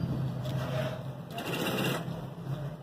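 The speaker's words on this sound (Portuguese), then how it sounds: "e vou costurando, ó." A sewing machine stitches grosgrain ribbon onto a box-file cover, its continuous mechanical whir rising and easing in short runs at close range, with no talk over it.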